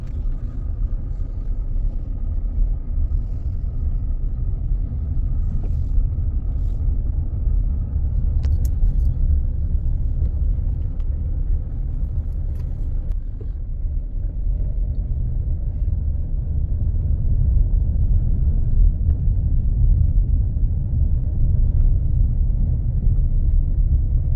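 A car rolls into the grounds of Tiger Valley, a jungle resort near Bandhavgarh, its engine a steady, close low rumble that holds at an even level throughout with no voices.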